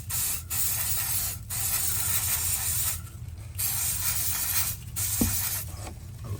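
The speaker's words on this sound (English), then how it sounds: "I'm going to end with the Brilliance in the Prevail sprayer" Prevail sprayer spraying Brilliance, a steady hiss in several long bursts separated by short pauses, with a brief mechanical click near the end; loud and close, no talk.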